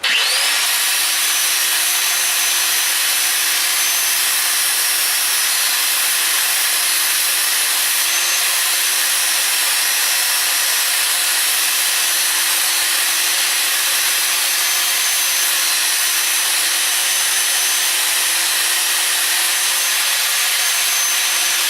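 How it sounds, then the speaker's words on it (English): Skil 970 angle grinder grinding metal, a loud steady high-pitched whine with a continuous harsh grinding texture held throughout, close up. "The Skill 970. But this sucker can really grind if it needs to"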